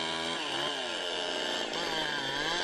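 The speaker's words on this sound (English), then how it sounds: "When the chainsaw cuts into the tree trunk, it creates a gust of wind that fans the flames," Chainsaw cutting into a tree trunk in a forest, engine whining loud and close with pitch sweeping as the chain bites into the wood, continuous for the whole stretch.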